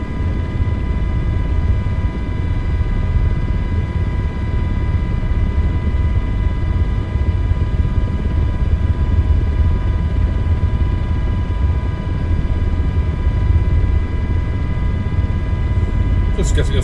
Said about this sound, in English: we're going to bring ourselves into the hover. Feeding in the power.